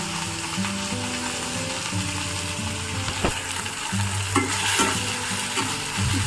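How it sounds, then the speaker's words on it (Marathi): Leafy ghol (purslane) vegetable is stirred and mixed in a pan with a spoon, giving close, repeated scraping and clinking strokes over a soft sizzle of frying, with no talk. "सर्व ही भाजी मी याच्यामध्ये आता मिक्स करून घेते"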